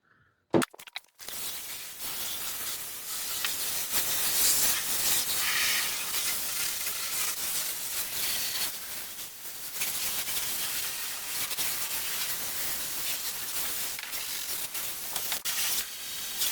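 Compressed air blasting steadily while detailing a car interior, a loud continuous hiss that starts after a brief click and runs on with slight fluctuations and a short dip midway.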